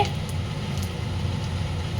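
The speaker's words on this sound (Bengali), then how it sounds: "আমি তার মধ্যে কটা বক ফুলের বড়া ভাজতে দিয়ে দিলাম দেখো গরম গরম বক ফুলের বড়া হচ্ছে" Bok flower fritters frying in hot oil make a loud, continuous bubbling sizzle up close, with no voices over it.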